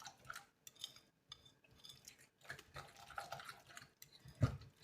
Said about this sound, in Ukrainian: зараз то все разом я замішаю докладно